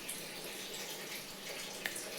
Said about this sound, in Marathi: पाण्याचं नळ चालू.